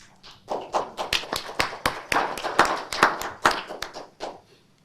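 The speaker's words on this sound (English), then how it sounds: "That was a very enthusiastic applause, Susan." Enthusiastic applause at a county board of supervisors meeting: sharp, scattered claps from a small group in a meeting room, building quickly and fading out after about four seconds.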